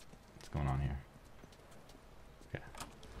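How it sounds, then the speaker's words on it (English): In The Last of Us, a horse's hooves clip-clop with a loud hollow knock followed by lighter scattered hoof taps, heard amid quiet game ambience. "There's my horse. I got horses."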